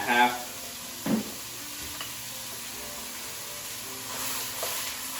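A pound and a half of 80-20 ground beef hits a hot, unoiled pan with a sharp sizzle, followed by a second burst of frying as more meat goes in. A steady hiss of cooking continues underneath.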